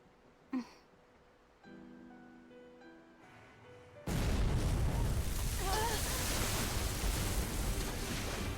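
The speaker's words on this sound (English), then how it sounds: "Cannon fire astern!" Pirate cannon fire in the video game Tales of Berseria: a quiet stretch with a brief pop and a low drone, then a loud, sustained rumbling roar of gunfire and blasts from about four seconds on.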